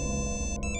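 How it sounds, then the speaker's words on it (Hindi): A mobile phone ringtone sounds in a Hindi crime drama scene, a steady repeating electronic melody that plays throughout at moderate loudness with no talking over it. "इसका फोन आ गया"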